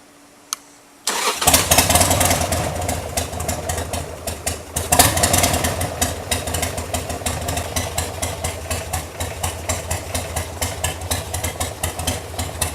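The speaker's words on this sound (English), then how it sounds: "This is a totally cold engine. She's idling like so cold" A cold 1998 Harley-Davidson XL1200C engine cranks and catches after a second of quiet, then settles into a loud, uneven, lumpy idle with rhythmic pulsing exhaust beats.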